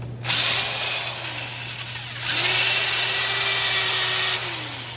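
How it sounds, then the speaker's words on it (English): A power drill spins a small brush to scrub rust off the brake hub of a 2015 Jeep Patriot, in two close whirring bursts of motor and abrasive scraping with a short pause between them. "I use this drill, and we're just going to clean it like this"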